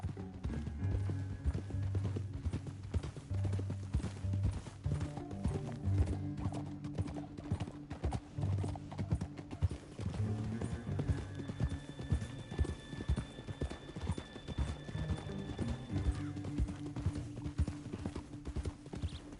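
Horses gallop with steady clip-clop hoofbeats and an occasional whinny in Red Dead Redemption II, heard over a low in-game music and ambience bed that shifts partway through.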